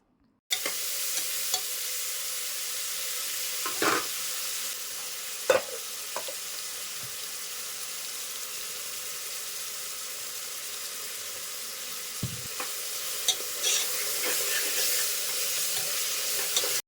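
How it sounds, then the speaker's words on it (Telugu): Chopped onion, green chili, tomato and carrot frying in a pan, a steady sizzle with occasional stirring scrapes and clinks throughout, no talking. "ఉల్లిపాయ పచ్చిమిరపకాయ టమాటా ఆరు క్యారెట్ చిన్న చిన్న ముక్కలుగా కోసుకున్నాం కదండి అవి కూడా వేసి వేయించేసాయని"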